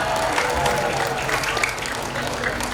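Applause rises from a crowd of women gathered for a religious lecture and celebration in a Jakarta mosque, a continuous patter of clapping mixed with murmuring voices throughout.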